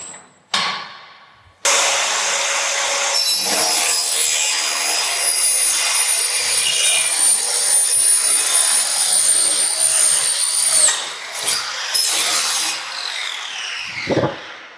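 A Schlebach SPM QA60 profiling machine cutting a wooden rafter: a loud, steady, high-pitched whine and grinding roar that runs without a break for about nine seconds, then winds down with a few clunks.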